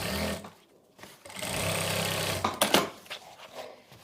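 Close-up whir of a sewing machine stitching a seam on a Punjabi Patiala salwar, running steadily for a couple of seconds between softer handling sounds and a few sharp clicks.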